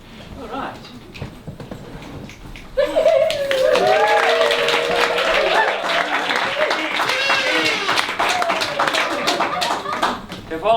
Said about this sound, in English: If all I gotta do is to get an applause to stand out here